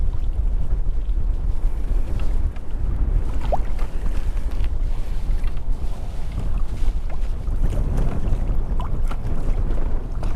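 Strong wind buffets the microphone out on open water from a Pelican Catch 120 kayak, a steady loud rumbling roar with gusting surges and faint water splashes throughout, no voices.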